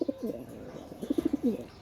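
Close Satchila pigeons coo softly in short, rolling bursts, a few low throaty calls repeating in quick succession.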